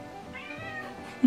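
A house cat gives one short, fairly soft meow near the end, after a quiet stretch of faint room tone.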